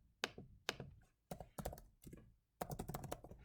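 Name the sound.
typing on a computer keyboard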